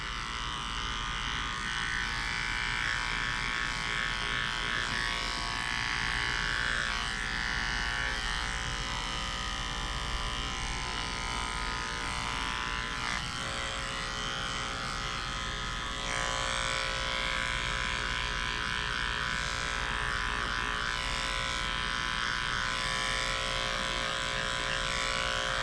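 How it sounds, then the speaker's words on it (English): Electric clippers run continuously while shaving a flea-infested dog very short, a steady close buzz with slight shifts in pitch as the blade moves through the coat, with no talking. "shaving this dog as short as possible"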